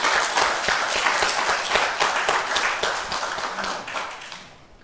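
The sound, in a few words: church congregation applause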